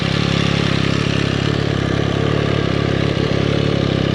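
An MV Agusta Brutale 800 Dragster RR motorcycle engine runs close by, a loud, steady, throbbing mid-pitched idle that holds even for several seconds with no voices.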